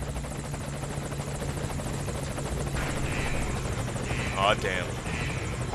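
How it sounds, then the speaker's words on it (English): A helicopter in Metal Gear Solid V: Ground Zeroes hovers nearby with a steady, loud, pulsing rotor drone throughout, while someone speaks briefly over it. "I'll have the chopper wait in the air."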